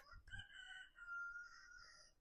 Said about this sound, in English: Did you guys hear that rooster?